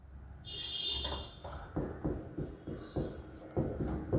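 Pen or marker scratching on paper as a chapter title is handwritten, a series of short strokes and taps in rhythmic bursts, close and fairly quiet, with no talking.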